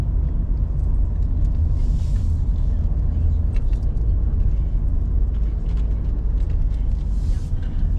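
A closed-up car climbs the Serra de Ubatuba mountain road, a steady loud interior rumble of engine and road noise running throughout, with faint cabin rattles.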